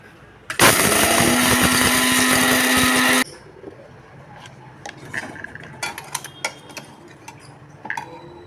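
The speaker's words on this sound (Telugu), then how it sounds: "ఇప్పుడు ఇవి చల్లారినాయి మిక్సీ పట్టుకుందాం" A mixer grinder roars loudly for about three seconds grinding roasted fenugreek and mustard seeds, then cuts off, followed by light clinks and clatter of the jar being handled.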